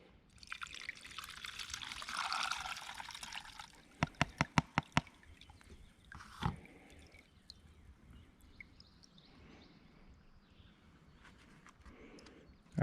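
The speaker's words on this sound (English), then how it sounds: "we'll go ahead and dump the rest of the clean diesel in here and see if any dirt comes out still" Diesel fuel is poured through a Mr. Funnel filter, a soft trickling pour for several seconds, then a series of quick taps or clinks and faint dribbling in a quiet setting.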